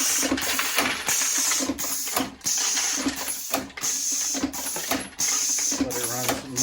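A 32 mm pneumatic cylinder power drive runs on compressed air, clacking in a fast, regular cycle of hissing strokes and sharp air exhaust bursts, close and loud, with someone talking over it.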